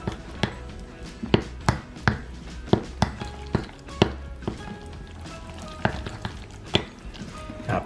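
Powdered sugar is mixed into icing for cinnamon rolls. Sharp knocks and clinks of the utensil against the bowl repeat in an uneven rhythm over a soft scraping background, close and clear, with no talking.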